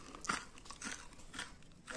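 Crispy, thin homemade peanut chikki made from two ingredients is bitten and crunched close to the mic, giving a few sharp, brittle cracks in quick succession at a quiet level.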